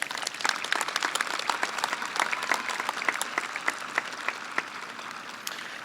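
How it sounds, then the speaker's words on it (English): At a high school commencement ceremony, the audience applauds staff members with dense, even clapping. Sharp individual claps stand out now and then over the steady crowd. "Can we give them a round of applause?"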